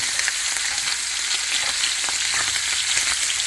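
Ground pork sausage browns in a pan, giving a dense, even sizzle that holds steady and close throughout, with faint scraping and no voices.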